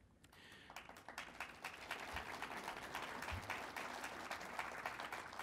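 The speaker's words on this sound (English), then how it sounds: "We applaud for journalists now" An audience applauds a panel of journalists at a conservative political gathering, steady dense clapping that rises quickly and holds loud and even throughout, with no talk over it.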